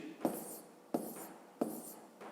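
Pen strokes scratch across paper as numbers are written by hand for a fifth-grade maths exercise, three short quiet bursts of writing at an even pace, close up and with no talking.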